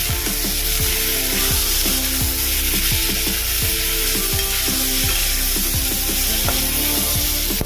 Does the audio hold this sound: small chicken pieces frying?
yes